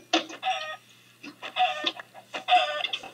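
Minecraft chickens cluck in a game, three short bursts of clucking sounds in quick succession, fairly close and with no talking.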